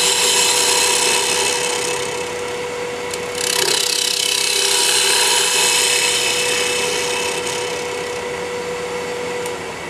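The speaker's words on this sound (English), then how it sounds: "My weapon of choice is a detail gouge because it takes nice little cuts." A detail gouge hollows out a wooden lid in small cuts, giving a loud, continuous scraping and shaving of wood that dips briefly and then carries on steadily, with no talking.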